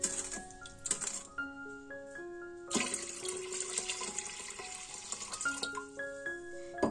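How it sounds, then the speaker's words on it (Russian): Cold purified water, two litres, poured into a container of homemade orange drink, a steady watery gush with splashing from near, ringing clinks of the vessel on top, pausing briefly midway before continuing. "И добавляем 2 литра еще воды."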